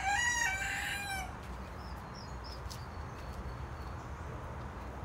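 A rooster crows once, loud and close, its call rising then trailing off over steady outdoor background noise.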